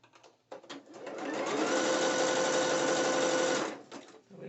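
A sewing machine zigzag stitching on net fabric for dancewear, running in one steady fast burst of about three seconds with a brief start and stop around it, close and alone.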